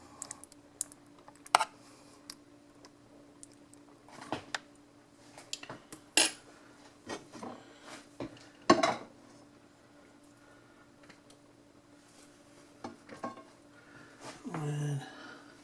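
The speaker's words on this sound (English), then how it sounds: "Just take the spoon and smooth it out a little bit." A spoon scrapes and taps against a pan while spreading sauce over a lasagna layer being cooked on a backyard grill, leaving scattered light clinks and a soft scraping near the end.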